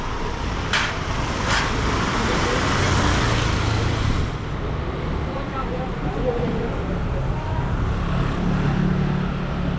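Busy street traffic with many motorcycles on Rua dos Ervanários in Macau: a steady, dense roar of engines that never lets up, with a couple of brief sharp sounds near the start.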